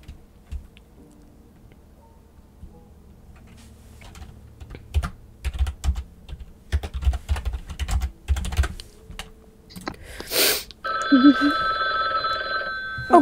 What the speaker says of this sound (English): Why is there a phone ringing?